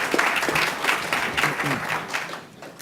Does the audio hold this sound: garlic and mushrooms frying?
no